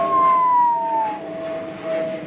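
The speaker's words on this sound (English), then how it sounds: "And that is an airplane." An airplane passing overhead, a drawn-out tonal whine that slowly falls in pitch over a soft rushing drone, fairly close and steady throughout.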